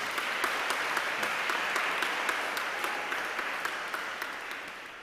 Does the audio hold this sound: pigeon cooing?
no